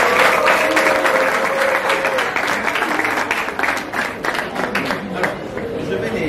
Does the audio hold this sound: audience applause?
yes